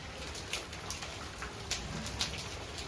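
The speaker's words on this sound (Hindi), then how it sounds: "अभी भी इतना पट पट गिर रहा है" Scattered hailstones tap and patter on a rooftop, with a few sharper clicks standing out over a steady, faint outdoor hiss.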